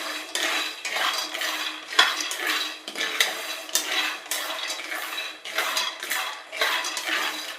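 A spatoon stirs and scrapes a peanut mixture roasting over low heat in a metal pan for Gujarati mandvi pak, giving steady, close, repeated clinks and scrapes in an uneven rhythm with no talking.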